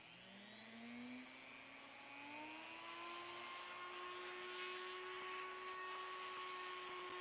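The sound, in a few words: Dremel rotary tool running at about three-quarter speed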